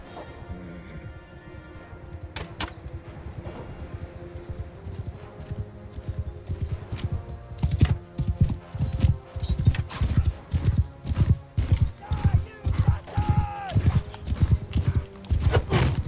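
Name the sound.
horse galloping in Mount and Blade II: Bannerlord video game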